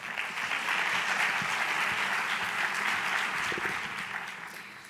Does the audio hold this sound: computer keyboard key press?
no